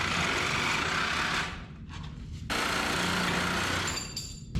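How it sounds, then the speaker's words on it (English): A Sawzall reciprocating saw grinds loudly through hard weld on a 1980 square body 4x4 truck frame, a dense continuous buzz that dips briefly in the middle, then resumes. "that Sawzall's not liking that because it's having to cut through that hard weld"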